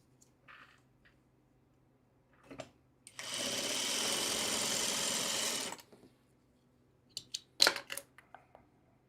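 A sewing machine runs in one steady burst of a couple of seconds while stitching quilt half-square triangles, close and even, framed by quiet handling clicks and rustles before and after.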